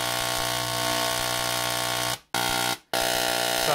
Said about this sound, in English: And now you can hear it zero beating with the 60 hertz.